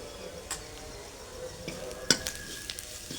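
Bell pepper (capsicum) is stir-fried with salt, black pepper and turmeric powder in a pan, giving a steady sizzle broken by occasional sharp clinks and scrapes of a utensil stirring close by.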